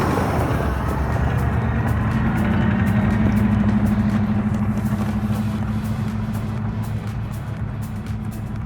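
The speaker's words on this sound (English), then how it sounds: "the truck made it to the trailhead" A truck drives up a dirt road, its engine a steady, loud rumble with a droning hum throughout, heard from inside or close by.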